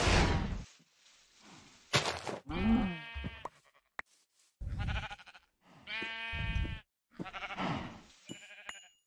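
Bleating farm animals in Minecraft, a series of distinct synthetic moos or bleats spaced a second or so apart, clean and close with silence between calls, no talking.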